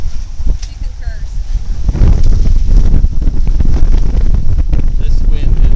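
Strong wind gusts buffet the microphone aboard a sailboat in the British Virgin Islands, a loud, continuous rushing roar mixed with water and boat noise, while people talk.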